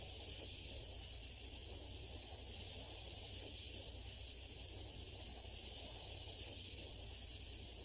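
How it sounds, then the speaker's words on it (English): Compressed air excavation tool, an air spade, blasting soil off tree roots: a steady, harsh, loud hiss of rushing air with gritty noise, continuous and unbroken throughout, close by. "It's a compressed air excavation tool. It allows us to blast the soil off the roots"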